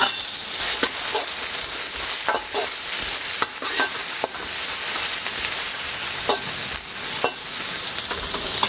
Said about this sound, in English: Adding just a little bit of oil, a couple of tablespoons, and we're going to firstly fry our onions.